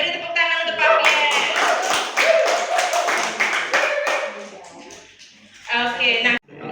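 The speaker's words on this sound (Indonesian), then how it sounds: "beri tepuk tangan untuk Pak Pierre" An audience claps for a speaker at a live stage show, a burst of clapping lasting several seconds with voices speaking over it, then trailing off as talk resumes.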